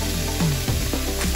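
Slices of Australian beef skirt sear in a hot pan, a brief, steady close hiss of sizzling fat with a few soft crackles.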